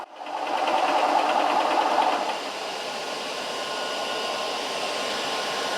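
A Lil' Foot 2.0 high pressure PCP air compressor hums steadily, louder at first and then settling to a constant drone as it pressurizes the hose toward tank pressure, close and alone.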